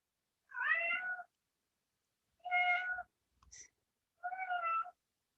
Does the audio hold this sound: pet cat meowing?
yes